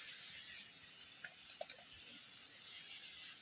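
Water is poured into a cup at a rural field hut, a faint steady splashing stream with a few small drip-like plinks, quiet and close.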